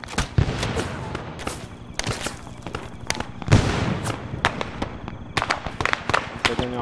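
Sharp gunshots from a Mosin-Nagant rifle in ARMA III, several loud cracks spread through the clip over a busy background of other fire and game sounds, with someone talking at times.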